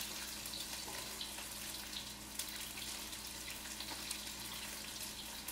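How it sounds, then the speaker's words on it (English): Teriyaki sauce, about a cup, poured into a container for Asian chicken wings, making a steady continuous liquid splash and trickle that holds evenly throughout, close by, with no talking. "I am going to be putting 1 cup of the teriyaki sauce in there"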